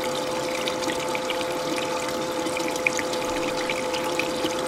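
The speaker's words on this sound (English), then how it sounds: "turn it on until you get this little gentle spin of water flowing through the funnel down the feed tube." Water from a gold recovery system's funnel spins gently down into a feed tube with a steady, continuous trickling flow and faint pump hum, close and alone.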